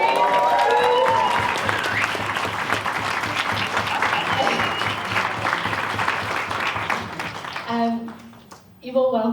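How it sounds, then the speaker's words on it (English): Wedding guests break into loud, sustained applause and cheering at a reception speech, a dense wash of clapping that fades after several seconds before a voice resumes. "A big cheer for the Dwecks and the Goldsworthys"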